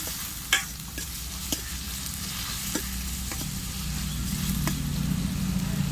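Onions with cardamom sauté in a pan for Tamil egg gravy, a continuous sizzling fry broken by sharp scraping clicks of a spoon stirring, close up with a low steady hum beneath.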